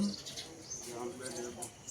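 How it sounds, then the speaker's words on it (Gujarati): Sparrows chirp in short bright bursts nearby at a plant nursery, with a soft cooing in the background and quiet talk underneath. "ચકલો મસ્ત બોલો"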